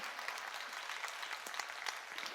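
A church congregation claps during a Korean sermon at a summer mountain revival meeting, with quiet, even applause from a distant crowd and a few sharper claps standing out.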